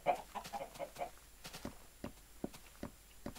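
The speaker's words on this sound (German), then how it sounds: "Hühner!" Chickens in the Minecraft video game give soft, faint clucks among light clicking footstep sounds.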